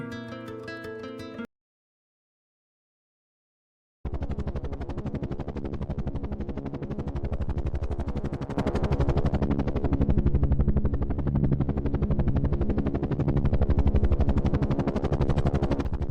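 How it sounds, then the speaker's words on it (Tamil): A short tonal sound, a pause of silence, then a helicopter's steady rotor chop that grows slightly louder as it passes overhead. "என்ன சத்தம் மட்டும் வருது ஹெலிகாப்டரை காணோம்"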